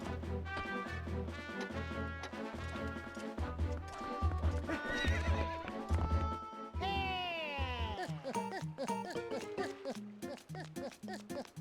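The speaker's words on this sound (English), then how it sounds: "maybe they were trying to make it realistic to what actually riding a horse sounds like" Horse riding in a Zelda video game: rhythmic hoof clip-clops under repeated loud whinnies and neighs, one long descending neigh midway, with steady galloping hoofbeats continuing after.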